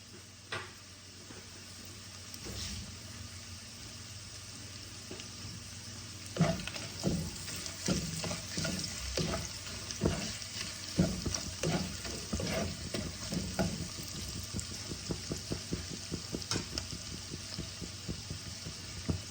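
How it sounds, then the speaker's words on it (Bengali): Ginger paste sizzling with reddish-browned onions in a pan, a steady frying hiss that grows busier midway, broken by frequent scraping clicks of a spatula stirring, close and alone with no voices. "এবার আমি অল্প আদা বাটা দিয়ে দিলাম।"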